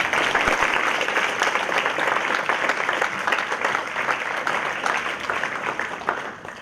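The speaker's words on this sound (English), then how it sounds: "let's give him a round of applause." Sustained applause from an audience, dense steady clapping that fills the room and gradually tapers off toward the end.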